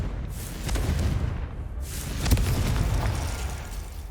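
A Confringo blasting spell explodes in Hogwarts Legacy on PS5, giving heavy, booming bursts with a sharp crack partway through, loud and close over rumbling debris.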